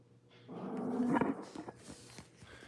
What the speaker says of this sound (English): She's over there growling at the dryer.